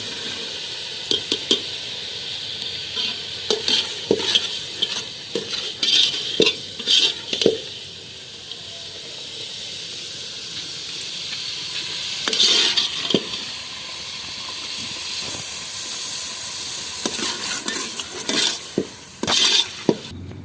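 Peas tipped into a hot tadka for chicken matar biryani, with a steady sizzle of frying beneath repeated scraping stirs and clinks of a spoon against the pot, no talking.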